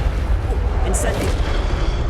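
Incendio fire spell in Hogwarts Legacy on PS5: a loud, steady low rumbling fire burst with a brief bright crackling flare midway, the roar holding throughout.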